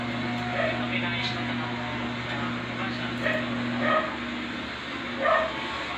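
A dog barks and yips in short, scattered bursts in a home kitchen while butter garlic shrimp is being prepared, sounding somewhat distant over a steady background hum, with a voice talking.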